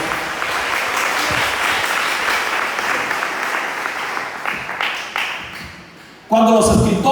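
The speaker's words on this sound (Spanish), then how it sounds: "Denle aplauso a la gloria de nuestro Dios" Applause fills a church congregation for the glory of God, a dense steady clapping that carries on for several seconds, fades slightly, then swells louder again near the end.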